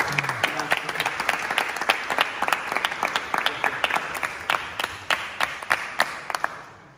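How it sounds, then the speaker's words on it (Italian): An audience at the official Lucca Comics 2019 presentation of Pronto a Tutto applauds for Andrea, steady dense clapping sustained throughout with sharp individual claps standing out near the front. "Un applauso a Andrea."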